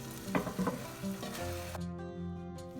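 Marinated chicken mixture hits a hot pan for chicken biryani, a sharp burst of sizzling with a few stirring clatters, then settling into a steady, close frying hiss with no talking.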